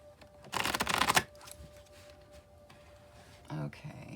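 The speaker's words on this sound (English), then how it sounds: "I'll shuffle till I feel like it's ready" Tarot cards shuffled by hand in a quick riffling burst, then quieter handling and another brief riffle near the end, close and clear with no talking over it.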